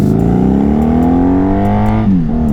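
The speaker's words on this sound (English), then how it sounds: "Big truck." A big truck passes on the road with a loud, close engine drone whose pitch glides upward, then drops and shifts near the end. The sound is steady with no talking.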